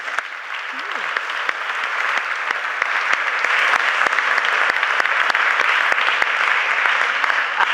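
Sustained applause from a debate audience at a sustainable finance summit in Oxford, a dense, steady wash of clapping that holds loud and even throughout with no voices on top.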